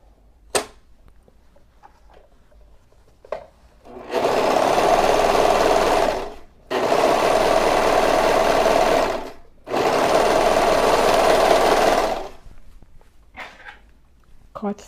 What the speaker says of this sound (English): Now I am going to serge the sides of the dress. Over to my serger.